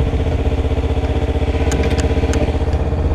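A 2014 Kawasaki Ninja 300 motorcycle, ridden as a dual sport, idles nearby with a steady, even low-pitched rumble and faint mechanical ticks over the top.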